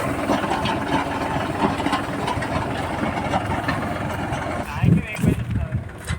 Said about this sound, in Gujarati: આ ભાઈ અહીંથી ચાલુ કરી દીધું ટ્રેક્ટર